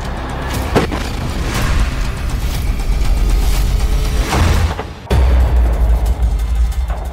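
Heavy booms and rumbling blasts from rockets striking Israeli tanks in a Gaza combat zone, loud and continuous, with a sharp burst near the start and a deep surge about two-thirds through, no talking.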